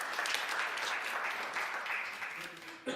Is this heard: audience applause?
yes